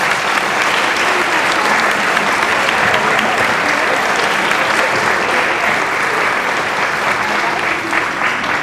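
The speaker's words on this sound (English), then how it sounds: "Let's give them another round of applause." A crowd at the Surviving With Style 2016 event gives a loud, sustained round of applause, thick and even throughout with no pauses and a few voices buried in the clapping.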